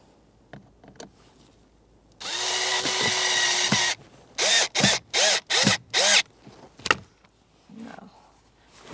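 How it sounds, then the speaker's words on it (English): A power driver with a T25 Torx bit tightens a screw into plastic while a Toyota Sienna blower motor assembly is installed: one sustained whir, then five short, evenly spaced bursts and a final quick pulse, close and clear. "Then I'll take my T25 Torx and tighten it up."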